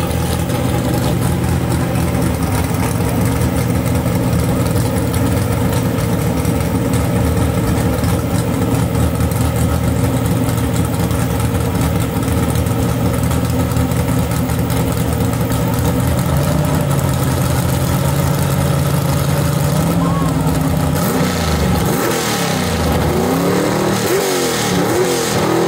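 A loud gasser drag race car at a dragway idles with a heavy, lopey rumble, then revs up and sweeps through rising and falling engine pitches toward the end, with no voices over it.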